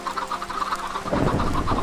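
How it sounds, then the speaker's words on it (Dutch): Minecraft chickens cluck in a short burst of several quick, close clucks over a busy game background, with no talking. "Zijn de kippen ontsnapt?"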